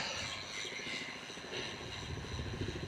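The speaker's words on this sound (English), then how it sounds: "Chinook over there. Probably out of Middle Wallop, up near Andover." Chinook twin-rotor helicopter passing over a Dorset country road near Andover: a faint, steady distant rotor thump and engine drone under wind noise.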